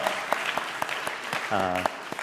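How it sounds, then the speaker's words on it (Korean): Applause at the close of an autumn theology academic conference on AI and humanity's future, with steady clapping and a brief voice cutting in partway through. "우리 모두를 위해서 크게 한번 박수 치고 마칠까요?"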